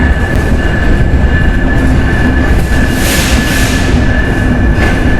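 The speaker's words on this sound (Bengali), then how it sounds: "জাহানাবাদ এক্সপ্রেস ফাইনালি চলে আসলো কমলাপুর রেলওয়ে স্টেশনে" The Jahanabad Express passenger train rumbles close by at Kamalapur railway station with a steady roar and a high sustained whine, no voices.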